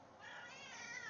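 A cat meows in a Minecraft hardcore world, one short, close, high-pitched mew that rises and holds for about a second, fairly faint, with no talking over it.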